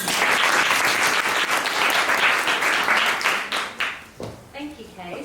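Loud, sustained applause from a crowd fills most of the clip, then thins out into scattered claps as it fades near the end.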